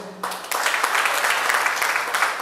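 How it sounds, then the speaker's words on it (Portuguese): A church congregation bursts into loud, dense applause after a brief quiet opening, the clapping rolling on steadily to the end. "Vamos aplaudir o Senhor?"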